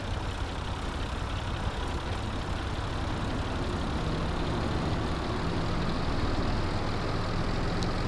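A tractor engine in Farming Simulator 22 rumbles steadily, a dense low drone that holds constant and loud from start to finish with no pauses.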